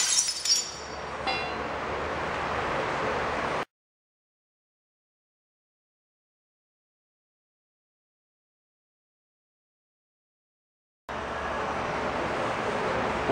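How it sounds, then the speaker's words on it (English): A sheet of unattached silver-backed mirror glass breaks with a sharp shattering crash and clinking shards, followed by a long stretch of silence and then steady background noise. "we're going to break it in order to demonstrate how easy it's being broken when it's not attached to anything"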